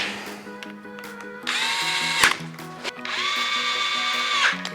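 Power screwdriver driving screws into ProTaper handlebar controls on a Honda CRF250L motorcycle: two or three close, whining bursts of the drill motor that spin up and stop, with short pauses in between.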